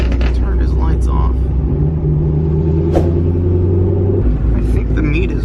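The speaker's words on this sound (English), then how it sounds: "BMW with a pop tune is in front of us" A BMW with a pop tune exhaust rumbles low and steady just ahead, with occasional sharp pops and ticks, while people talk over it inside a car.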